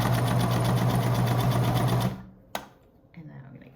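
A sewing machine runs a steady basic stitch on silk fabric for a face mask, loud and close for about two seconds, then stops with a sharp click and some quiet handling.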